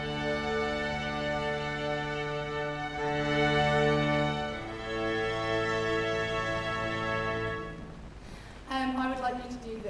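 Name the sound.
orchestra playing a plagal cadence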